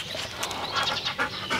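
A dog pants rapidly and steadily at close range, quick breathy huffs running continuously through the short stretch with no talking.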